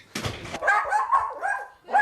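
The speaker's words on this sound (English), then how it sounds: "And Charlie the dog is excited to have everyone home." A family dog gives a short excited bark followed by whiny yips and whimpers as everyone arrives home, close and loud in a domestic setting, lasting about two seconds.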